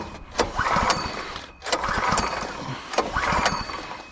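A Harbor Freight Predator 212cc 6.5 hp small engine is pull-started three times, each tug bringing a loud, rough burst of cranking that chugs for about a second before dying away, close up.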